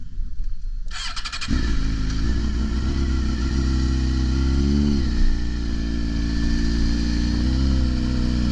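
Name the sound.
motorcycle engine starting and running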